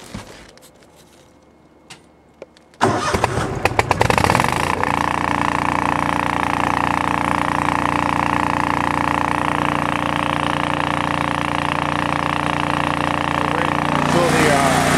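A homemade air raid siren motor with some fluted holes kicks into life after a quiet start and then runs continuously, a loud steady engine-like drone that holds for the rest of the stretch.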